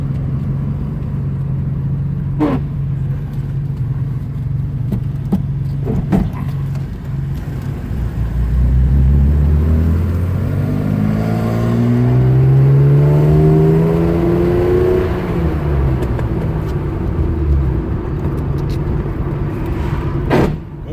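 A 1977 Porsche 911S engine droning from inside the car while driving, with the pitch rising under acceleration, dropping at a gear change and climbing again, plus a few clicks and knocks from the cabin.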